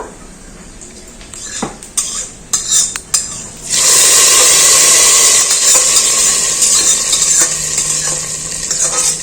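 A hot panch phoron tempering with bay leaf and dry chilli is poured into a pot of khichuri. A few stirring clinks come first, then a sudden loud, hissing sizzle bursts up and continues steadily to the end.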